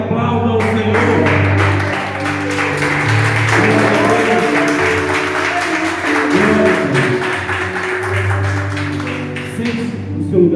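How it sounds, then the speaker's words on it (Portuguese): A church congregation claps during a worship service. Loud, rhythmic applause runs under sustained music tones for about ten seconds. "Libere suas mãos e aplauda ao Senhor."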